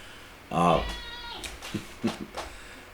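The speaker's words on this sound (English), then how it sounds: "Big meow." A cat gives one loud, drawn-out meow close by, followed by a few softer short chirps and murmurs.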